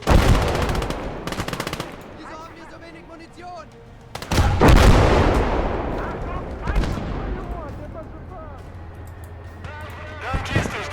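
Gunfire and explosive bursts from a war video game set on the Southern Front, loud and repeated, with sharp blasts and rattling shots over a busy battle din.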